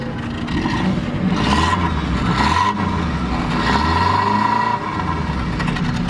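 A Suzuki Alto VXR engine idles and revs up and down in a few smooth swells, close and fairly loud, with no talking.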